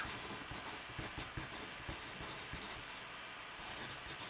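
A pencil shades on paper in quick back-and-forth strokes, a faint close scratchy rasp that keeps a steady rhythm, with no talking.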